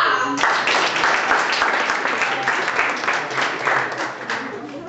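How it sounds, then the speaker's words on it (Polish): A crowd bursts into steady, enthusiastic applause, many hands clapping together close up and sustained throughout. "Brawa dla Augustina!"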